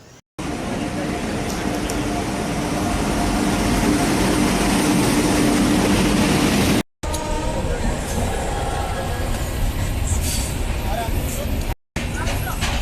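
Crowded general coach of a moving Indian train on the way to the Khatu Shyam Ji fair, a loud steady rumble and rattle with brief cuts in the sound.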